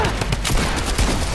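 Rapid gunfire from a Fortnite match crackles in a dense burst over about a second and a half, loud and continuous, with faint voices underneath.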